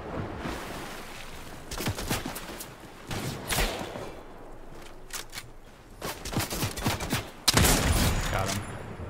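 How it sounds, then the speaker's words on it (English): Bursts of Fortnite gunfire crackle in repeated volleys, with a sharp, louder burst near the end, while players talk over the shooting. "I'm getting shot"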